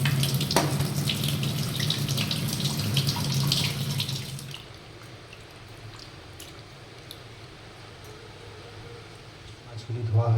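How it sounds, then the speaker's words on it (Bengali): Pabda fish are rinsed under a running kitchen tap, with splashing and a steady water rush that quietens partway through, and a voice talks over it. "মাছগুলোকে ধুয়ে নিই ভালো করে"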